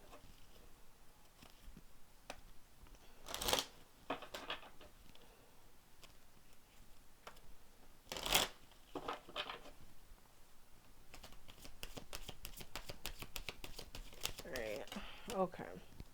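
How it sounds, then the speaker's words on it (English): Tarot cards riffled and shuffled in a few quick bursts, crisp fluttering ticks between quieter stretches, with soft talking in the background. "I'm gonna shuffle this real quick since I had all those cards for Libra come out."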